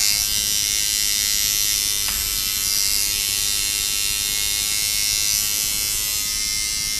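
A Sidewinder tattoo machine buzzes steadily and close for the whole stretch while it is tuned, a continuous electric drone with no talk over it.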